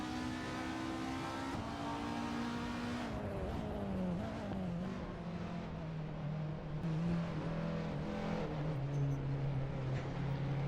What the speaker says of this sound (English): Let's enjoy watching these R-driven racing cars tear up the track.